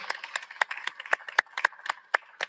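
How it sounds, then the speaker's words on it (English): An audience at a West African trade and investment summit claps for the Minister of Foreign Affairs, scattered individual hand claps in an irregular, fairly sparse rhythm, close and moderately loud. "Please, a round of applause for him."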